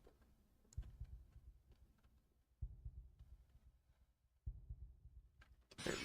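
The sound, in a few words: heartbeat sound in video game Deltarune Chapter 4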